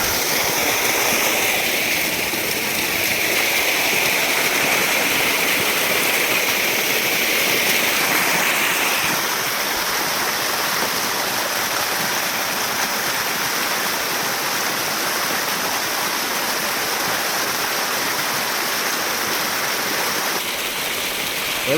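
Water pours down over rocks near Lonavala, a loud continuous rushing torrent that stays steady throughout, with no voices standing out.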